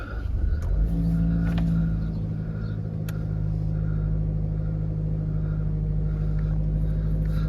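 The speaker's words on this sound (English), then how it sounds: "Start the car up." A Jaguar XE 2.0 petrol saloon with automatic gearbox starting up: a brief starter crank, then the engine catches and settles into a steady, loud, close idle hum.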